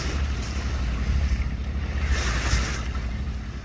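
Waves lap and wash against a shanty boat under way in shallow Florida water, a steady rushing swish with wind noise buffeting the microphone.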